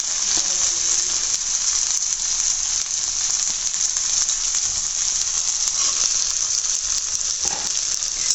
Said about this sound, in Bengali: এখন আমি শুটকিগুলো এখানে দিয়ে দেবো, দিয়ে একসাথে শুটকিগুলোকে ভেজে নেব।